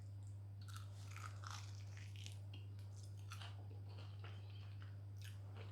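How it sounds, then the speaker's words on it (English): Several crisp crunches as oven-fried chicken dipped in chili sauce is bitten and chewed, close up, over a steady low hum. "Hear the crunch."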